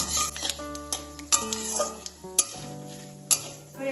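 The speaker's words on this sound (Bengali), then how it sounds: "ফোড়নটা ভালোভাবে তেলের সাথে একটু নেড়ে চেড়ে নেব" Panch phoron tempering with dried chillies and bay leaves is stirred in hot oil, giving scattered metallic scrapes and clinks of a spoon against the pan. A light sizzle and tonal background music run underneath.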